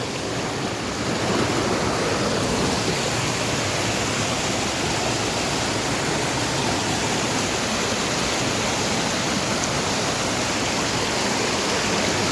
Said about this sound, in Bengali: বিশাল ঝর্ণা, বিশাল।